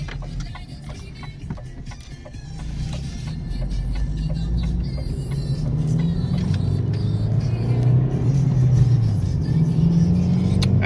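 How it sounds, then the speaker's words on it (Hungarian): Opel Astra GTC accelerating on the road, its engine note swelling steadily and growing louder over a constant road and cabin roar. "Nézzük meg, hogy halad az autónk."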